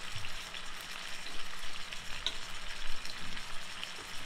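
Freshly flipped pork chops sizzle in a pan, a steady moderate crackle with fluttering pops and small bursts of spattering throughout.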